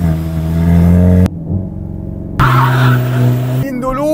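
Volkswagen Golf GTI launching from a standstill, the engine held high then surging under hard acceleration, loud and close, with a brief tire squeal toward the end.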